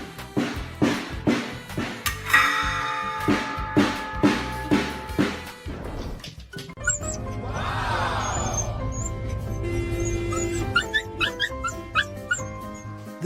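A dog yips and barks in a quick rhythmic run of loud, close calls, then lets out drawn-out whimpering whines over a steady background hum.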